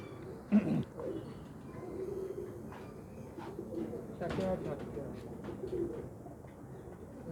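Pet pigeons coo softly in a loft, low repeated coos scattered across the clip with a few wing or movement thumps, fairly faint and close.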